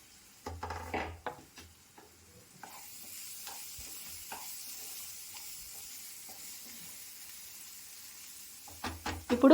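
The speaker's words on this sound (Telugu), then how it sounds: "ఇప్పుడు ఆనియన్స్ ఫ్రై చేసుకుందాము." Onions frying in a pan, salted to cook faster, give a soft low sizzle under several clattering bursts of stirring, utensil scrapes and pan knocks at the start and end.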